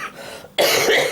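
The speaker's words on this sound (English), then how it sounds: "if I just can get over the coughs here" A single sharp, loud cough bursts out close by after a brief quiet moment, its throaty rasp trailing off.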